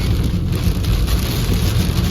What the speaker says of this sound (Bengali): দুপুরে প্রচুর বৃষ্টি এসেছে দেখতে পেলাম প্রচুর বৃষ্টি